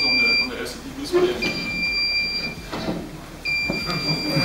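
Electronic alarm beeps from a system-on-chip demo device sound in steady high-pitched tones, cutting out briefly and resuming, with people talking over it and some clunky background noise.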